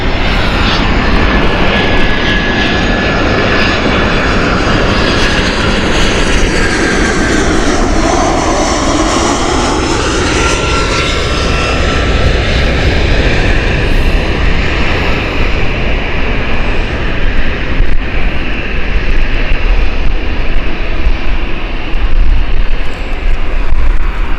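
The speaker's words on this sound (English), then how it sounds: "inbound next we have EasyJet. This is the Jersey flight from EasyJet." An EasyJet airliner on the flight from Jersey arriving at Gatwick passes loud and close, its engine roar rising to a sweeping whine near the middle and staying strong and continuous to the end.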